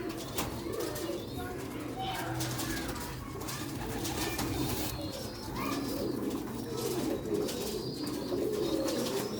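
Pigeons coo steadily in a loft of old Sialkoti Master Abdullah breed young pigeons, soft repeated low coos layered over one another, with nearby voices talking intermittently.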